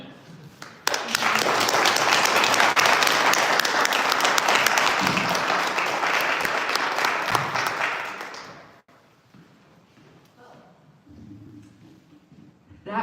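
Loud, sustained applause from an audience after an alumni debate at Hart House, filling the room for about eight seconds before fading away into quiet murmurs and faint talk.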